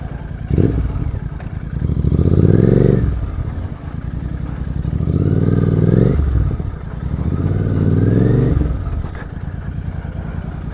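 A Royal Enfield-style Rider 650 motorcycle rumbles nearby at low speed while being turned, its engine note rising and falling in three slow swells with some clatter. No one speaks.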